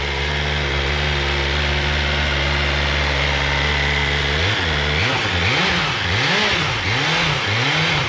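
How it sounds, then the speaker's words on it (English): A 2024 BMW M1000R with a clear clutch sits at a steady idle, then gets a series of rhythmic throttle blips that swell and drop repeatedly, close up with no talking. "You can give it some revs."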